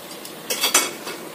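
Chicken pieces are shifted into a clean wok with a utensil, giving a few quick metallic scrapes and clinks in a brief burst.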